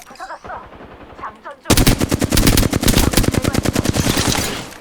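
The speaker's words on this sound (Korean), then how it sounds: "사격한다." Video game gunfire: rapid automatic bursts crack out loud and close for about three seconds after a brief stretch of quieter in-game sounds, the shots evenly spaced in a fast rattling rhythm.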